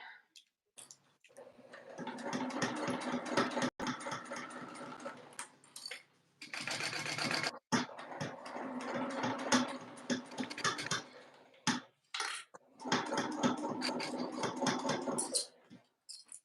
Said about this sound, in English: so I'm top stitching right now